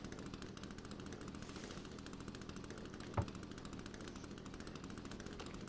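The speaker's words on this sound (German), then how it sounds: "Ich habe meine Kettensäge an." A chainsaw runs in the video game The Forest, a fast, rapid, buzzing rattle held steady and fairly quiet throughout, with one sharp knock partway through.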